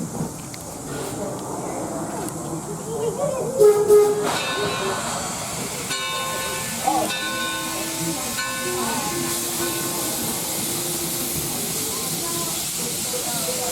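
The steam locomotive Torch Lake No. 3 rumbles and hisses steadily as it moves through Greenfield Village, with a long tonal whistle-like sound partway through and faint voices in the background.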